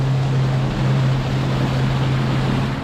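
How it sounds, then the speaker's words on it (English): Suzuki 140 four-cylinder four-stroke outboard with a 16-valve head running on a boat, a steady low hum under broad wind and water noise, constant throughout. "The Suzuki 140 is a 4-cylinder 4-stroke with a 16-valve head. It's a torquey unit and very quiet under 3000 RPM."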